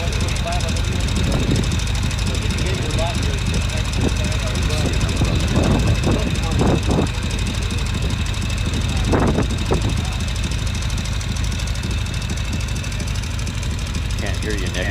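A Norton Commando motorcycle engine runs steadily at a race meet, a loud continuous mid-pitched rumble throughout, with a public-address voice talking over it.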